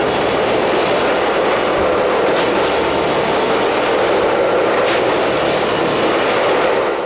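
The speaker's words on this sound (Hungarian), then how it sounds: "Ezt a különleges gépet használja a MÁV a vasúti sínek felújításához." A MÁV self-propelled railway track renewal machine runs on the rails, giving a loud, continuous grinding rumble with rattling clatter and a couple of brief sharper clanks, heard close and alone.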